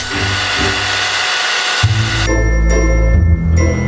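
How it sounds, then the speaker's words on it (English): A hair dryer blows with a steady, loud whir, its pitch and airflow shifting partway through as the setting changes. "melting it with the hair dryer"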